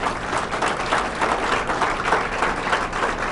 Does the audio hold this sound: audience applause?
yes